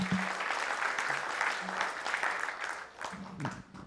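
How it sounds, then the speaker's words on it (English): Brief applause from an audience after a tech talk, a moderate wash of clapping with a voice murmuring through it. "let's give him a big round of applause"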